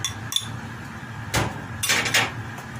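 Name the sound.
spoon stirring sauce in a pot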